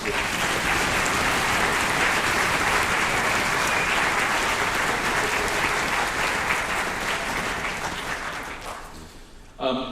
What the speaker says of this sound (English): Would you give these young people a round of applause?